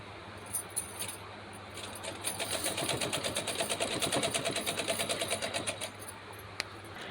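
Sewing machine stitching a frill onto a dress, run slowly and carefully; a steady rapid run of needle strokes starts after a few isolated clicks, continues for several seconds close up, then stops.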